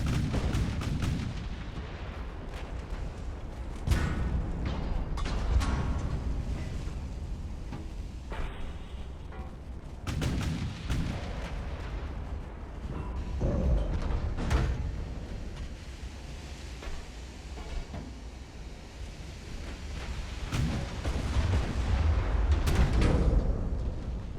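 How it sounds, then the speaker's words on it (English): Heavy naval gunfire from enemy battleships in Ultimate Admiral: Dreadnoughts, a series of loud, booming salvos spaced several seconds apart over a low, rolling sea-like rumble, with no talking. "Bounced all rounds, heavy rounds from the enemy battleships."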